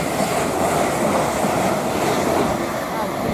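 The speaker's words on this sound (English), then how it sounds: "we've got a service from Birmingham to London Euston" A passenger train on the West Coast Main Line at Watford Junction, running from Birmingham to London Euston, rushes past at speed, a loud, steady roar with faint rail clatter throughout.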